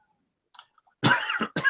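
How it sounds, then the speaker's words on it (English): A single cough during a podcast recording: a faint throat sound, then two close, harsh bursts, loud and near, with no talking. "Sorry, was right about to start when the cough came in."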